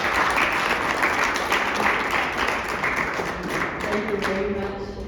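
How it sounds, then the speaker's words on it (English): An audience at a British Council mixer event gives sustained, dense applause that stays loud for several seconds before easing slightly, with faint voices mixed in beneath the clapping. "So could we give a round of applause, please?"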